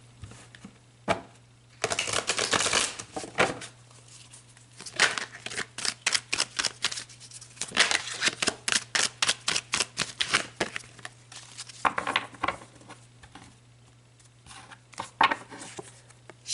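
Tarot cards are shuffled and handled up close in rapid, uneven bursts of crisp riffling and slapping, pausing briefly between runs, with no talking over them.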